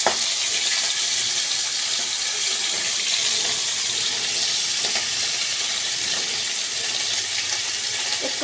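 Hilsa fish sizzling in hot oil in a pan: a loud, steady, dense frying hiss that runs unbroken and close throughout.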